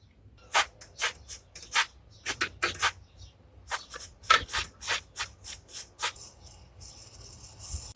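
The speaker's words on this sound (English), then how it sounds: "I'd like to hit every single one of these pins here with some contact cleaner." Contact cleaner sprayed onto the pins of a Technics SA-GX505 receiver, heard as a series of short, close hissing bursts in a quick, irregular rhythm with no talking.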